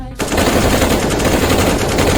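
Loud, continuous rapid-fire gunfire bursts in abruptly and hammers on without pause, a dense cartoonish machine-gun rattle.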